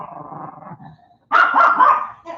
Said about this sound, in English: Go outside and bark.